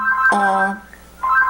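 A phone rings with a bright electronic tone in two bursts, separated by a short pause, heard fairly close indoors. A person's voice is briefly audible between the rings.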